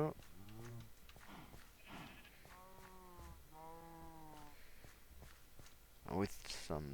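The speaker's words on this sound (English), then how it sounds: "With some luck, we might have some hungry cows here." Cows in Minecraft with the Feed The Beast modpack give two or three drawn-out moos with footsteps shuffling between them, while a voice talks quietly underneath.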